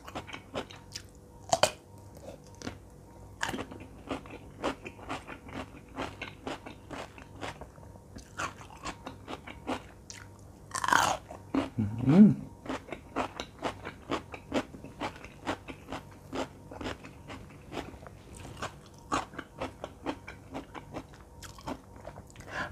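Chocolate-coated cherry tomatoes are bitten and chewed up close, with repeated crisp cracks of the chocolate shell and wet squishy chewing in a steady rhythm, a few louder crunches, no talking.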